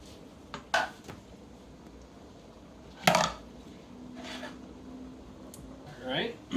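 A spoon stirs peppers, onions and habaneros in a pot of jerk chicken chili, giving a few sharp clinks and scrapes against the pot with quieter shuffling between them, alongside brief speech.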